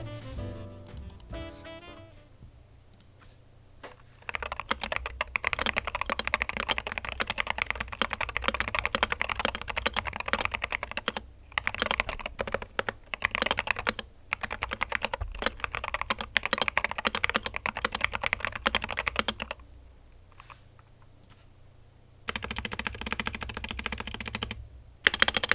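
Fast typing on a stock Wooting 60HE gaming keyboard, a dense, close stream of key clicks and clacks with a few short pauses between bursts.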